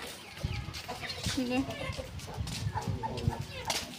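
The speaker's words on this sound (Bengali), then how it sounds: "আসলে মুরগি ডিস্টার্ব করতেছে" Domestic chickens cluck in short bursts near a household, mixed with a person talking over them and light background noise.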